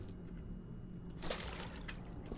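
Water sloshing and trickling in a bucket while dirtying it in the cleanup game Viscera Cleanup Detail, a quiet, soft liquid splash and dribble with a brief louder slosh midway.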